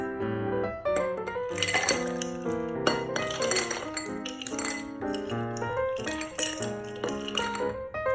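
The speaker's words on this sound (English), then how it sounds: "now we're gonna add our ice cubes" Ice cubes dropping into glass drink cups for a rum cocktail, heard as a bright series of close clinks and rattles repeating across several seconds with no talk.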